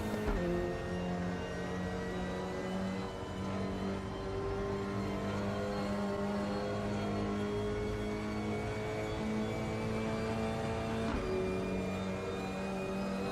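Sustained engine drone of McLaren and Lotus race cars in the RaceRoom racing game, a steady high revving whine held at near-constant pitch with slight rises and dips, loud and continuous with no talk.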